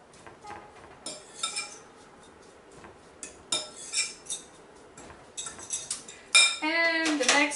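A spoon clinks and scrapes against a bowl while tuna fish salad is mixed, in irregular bursts of metallic taps that get louder and denser toward the end, close up with no talk.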